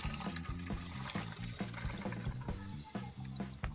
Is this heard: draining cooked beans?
yes